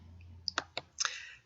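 A computer mouse clicks while selecting a spreadsheet column, giving a few quick, sharp clicks close up over a quiet background hum.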